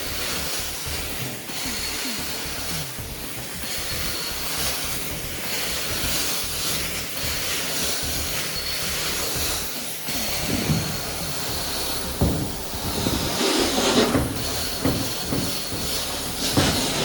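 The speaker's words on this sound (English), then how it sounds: "Just been out and turned the truck mount up, so we should start seeing a little bit of steam." A carpet cleaning truck mount machine runs steadily, putting out a continuous broadband hiss of hot steam with a rumbling mechanical undertone, growing slightly louder and rougher toward the end.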